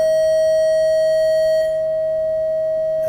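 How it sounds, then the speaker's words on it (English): Steady square-wave test tone held at one pitch for about three seconds, loud and continuous with bright odd harmonics stacked above, heard alone without any voice. "This is the square wave."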